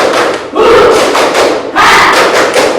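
A school class claps together in rhythm during a lesson in Indonesia, with two loud, dense bursts of close clapping filling the room.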